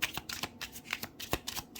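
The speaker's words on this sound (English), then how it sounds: "So I'm going to shuffle one more time." Tarot cards are shuffled by hand close to the microphone, a quick series of crisp riffling snaps and soft slaps in an uneven rhythm over nearly two seconds.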